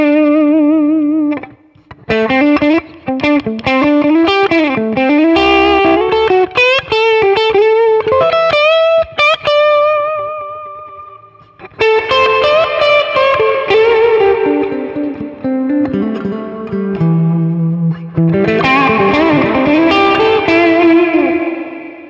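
Electric guitar played through a Roland Blues Cube Hot 30W tube-logic combo amp with reverb on the middle pickup: loud melodic runs and sustained chords, each note trailing a wet, ringing tail, with a pause midway.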